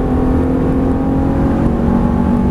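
A Ferrari F430 engine pulls steadily in fifth gear on a track, a loud, continuous droning tone with a strong steady pitch and no pauses, heard up close with no talking.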